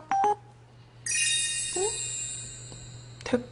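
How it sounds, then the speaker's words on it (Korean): A phone sounds a text message notification tone: a short beep, then a bright sustained chime with ringing harmonics for about two seconds, ending in a brief second blip, with a faint voice murmur in the background. "문자 왔쇽."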